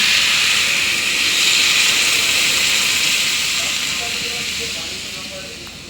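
Water poured into a hot pan flashes into a loud, close hiss of steam that fills the moment and slowly fades over several seconds.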